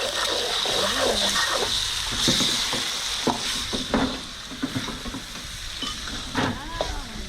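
An egg for pad see ew fries in a hot pan with a close, steady sizzle, punctuated by scrapes and taps of a spatula stirring; background voices murmur faintly underneath.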